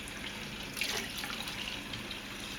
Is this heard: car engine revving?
no